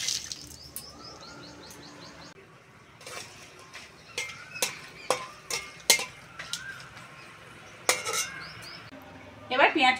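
Sugar goes into hot oil in a pan with bay leaf and whole garam masala, and a metal spoon stirs it in sharp, irregular clinks and scrapes while birds chirp faintly in the background.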